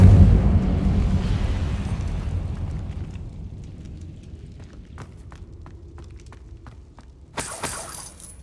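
Incendio fire spell cast in Hogwarts Legacy: a loud whooshing burst of flame that starts strong and fades over several seconds, then a few sharp crackles and a final bright burst near the end.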